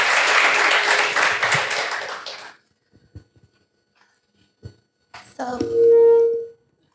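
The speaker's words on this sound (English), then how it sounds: "Let's please give a round of applause." An audience at a PyCon PT 2025 conference talk on Python robotics applauds for about two and a half seconds before the clapping stops abruptly. A quiet room follows with a few faint knocks, then a short tonal sound near the end.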